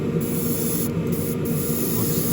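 Aerosol spray paint on a Revell 1971 Boss 351 Mustang model kit, a continuous close hiss broken by brief pauses, with no talking.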